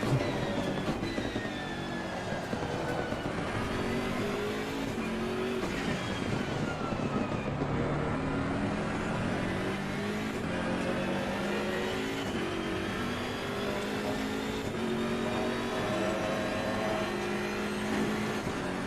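Race car engine in Assetto Corsa Competizione at Silverstone, revving steadily with rising and falling pitch through gear changes, loud and continuous throughout, no talking.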